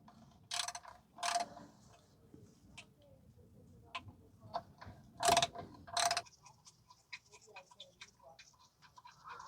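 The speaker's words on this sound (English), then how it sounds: "I'm just using a ratchet so that just in case there is too much rust, so the bolt does not break." Ratchet turning a rusty bolt on the rear differential mount of a 2015 Toyota Sienna 3.5 V6 AWD, heard as a series of sharp mechanical clicks in short bursts, with a faint steady clicking behind and quiet background noise.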